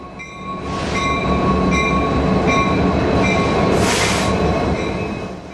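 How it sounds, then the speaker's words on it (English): Diesel-electric freight train pulled by four locomotives through Eugene, Oregon, a loud close rumble of rolling wagons with steady clacking, metallic wheel squeal, and a brief hissing burst near the end. "This freight train is being pulled through Eugene, Oregon by locomotives."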